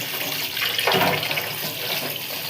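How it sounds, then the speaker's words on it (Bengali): Water splashing and running as an insect is bathed and made to swim in water, a steady close wash of watery sound with a brief louder splash near the middle. "আজকে এটাকে স্নান করাবো, সাঁতার কাটাচ্ছি জলে।"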